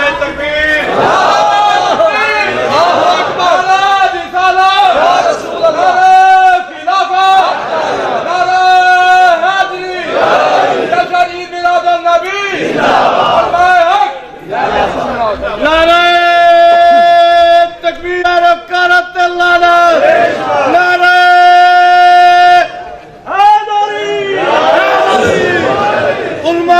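At a Mehfil-e-Milad religious gathering, a large crowd chants religious slogans in unison in response to Nara-e-Takbeer, loud rhythmic voices rising in repeated waves with drawn-out sung tones, close and continuous throughout.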